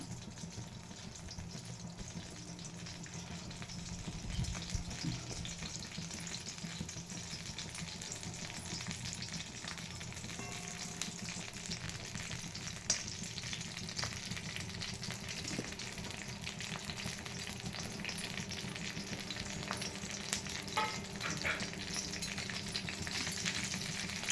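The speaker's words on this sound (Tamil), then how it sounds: "எண்ணெய் விட்டுன்ட்டு இந்த புளியை கொஞ்சம் எண்ணெயில் கொஞ்சம் பொரித்து எடுத்துக்கணும்." Tamarind frying in a little oil, a low continuous sizzle and faint crackle running steadily throughout with a few light stirring taps, fairly quiet and without any voices.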